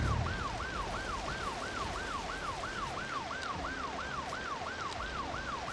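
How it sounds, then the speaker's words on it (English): A steady wailing emergency siren cycles rhythmically over city traffic noise in Cities: Skylines, sounding dense and continuous with no talk. "The amount of sirens going on."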